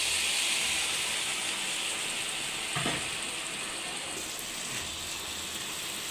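Mixed vegetables sizzle in a pan of fried turmeric, chili powder and salt, giving a constant, close hiss of frying with a brief clatter partway through and no talk.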